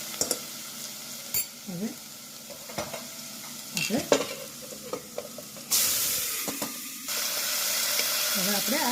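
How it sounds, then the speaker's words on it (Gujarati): Garlic and turmeric sizzle in hot oil as a tempering for sprouted val sarang ni dal. A spoon clinks and scrapes in the pan, then a loud burst of sizzling hiss rises, and a single word is spoken briefly. "થોડું લસણ એડ કરી દઈશું."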